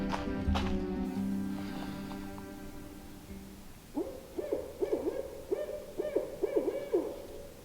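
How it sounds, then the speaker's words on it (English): Along a wooded hiking trail, a series of low, soft hoots repeats in a steady rhythm, moderately distant, following a stretch of faint ambient noise and rustling. "So I'm not sure what that sound is, but I think it's either a grouse or an owl"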